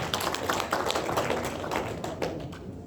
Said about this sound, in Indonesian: Tepuk tangan Bapak Ibu sekalian.